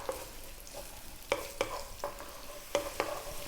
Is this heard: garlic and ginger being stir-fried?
yes